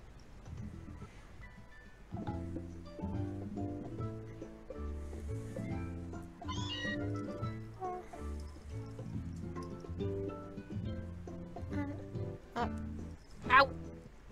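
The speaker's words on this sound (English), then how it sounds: "Cat." A short rising electronic cat cry from the Pokémon Sun video game rings out near the end, loud over steady background music and in-game sounds, following a stretch of music alone.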